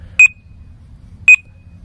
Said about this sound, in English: The beep means it's alarmed.